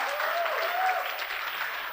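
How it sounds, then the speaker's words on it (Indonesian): Audience applause at a university law competition closing ceremony, a dense steady wash of clapping from a crowd throughout, with a voice briefly audible over it. "Tepuk tangan yang meriah."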